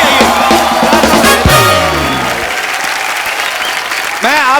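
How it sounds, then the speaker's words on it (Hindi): Studio audience applause on a TV comedy talk show, loud, dense clapping with cheering. Music and a host's voice run over it, and the clapping carries on alone toward the end. "सनी बाजी और बॉबी बाजी के लिए जोरदार तालियां हैं।"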